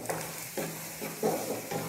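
Onion, ginger and garlic fry in a pan while being stirred, a steady close sizzle broken by regular scraping strokes about every half second, with no talk.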